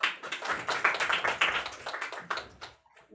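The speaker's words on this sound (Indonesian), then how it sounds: "Tepuk tangan dulu." Pupils in a classroom break into brisk applause, a close, dense patter of many hands that swells, holds for a few seconds, then thins out and stops.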